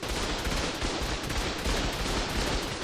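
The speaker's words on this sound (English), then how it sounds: "I hopped on to my stego and fired 5 rockets." A stego fires five rockets in the ARK survival game, a dense barrage of loud overlapping blasts and booms rolling on without a break for the whole stretch, with no speech.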